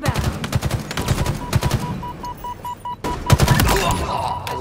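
Gunfire in Halo Infinite multiplayer, rapid loud bursts of shots in clusters with a brief pause midway, then another heavy volley, with a beeping tone in the background.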